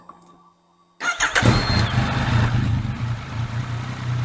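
After a quiet moment, a Yamaha MT-09 motorcycle engine cranks and fires up abruptly after an oil change, then settles into a steady, loud idle.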